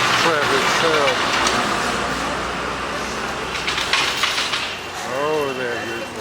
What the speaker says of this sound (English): There is a heavy traffic here.